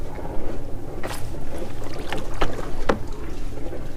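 A boat moving in reverse and spinning on the water gives a steady wash of motor and water noise close to the microphone, with a few sharp splashes or knocks breaking through.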